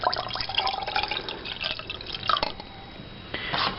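Water is poured from a 250 ml measure into a bag of electrolyte drink mix from a Canadian military ration pack, making close trickling and dripping liquid sounds with a few sharper splashes.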